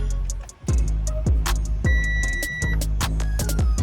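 A 2013 Audi Q5 engine cranks in repeated bursts, several starter pulses with sharp clicks and a steady mechanical hum, close and loud with no talk.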